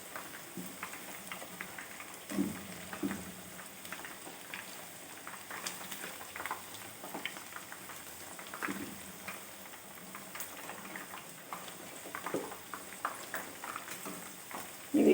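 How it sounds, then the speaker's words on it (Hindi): Chicken wings frying in a pan on low heat for Kung Pao wings, a soft, steady crackle and sizzle with scattered small pops, quiet and with no talking. "इनको तकरीबन ब्राउन होने तक हमने फ्राई करना है"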